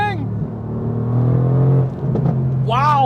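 A Mercedes-AMG GT R sports car in race mode, its engine note rising loud and close as it accelerates, with a steady low drone and a quick tonal shift near the end.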